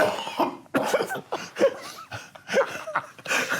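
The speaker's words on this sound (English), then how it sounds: "I had to cough as well" A man coughs several times in short bursts, close and fairly loud, during a relaxed podcast-style conversation between two men about donkey men and seamen.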